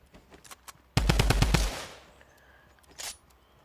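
Video game gunfire: a loud, close automatic burst of about six rapid shots that rings out briefly, followed a moment later by one softer shot.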